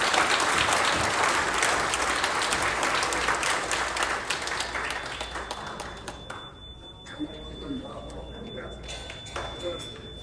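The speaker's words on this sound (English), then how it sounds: "Please join me in an appreciation round of applause for the Gimli Glider, the team, the captain, and everybody involved with it." A hall full of people applauds for the Gimli Glider team, captain and crew at an anniversary dinner, a dense round of clapping that gradually thins out and fades toward the end.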